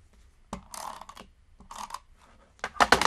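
Tape being applied to half of a paper piece on a gatefold card, with close crisp clicks, a short crackling tear and rustling handling in bursts, ending in a louder flurry of crinkly tape sounds.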